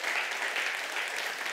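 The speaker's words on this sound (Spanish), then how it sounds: "¿Por qué no les damos la bienvenida a ellos también y les damos un aplauso?" A church congregation applauds in a brief, steady burst of dense clapping, fairly faint and even throughout, with no voices over it.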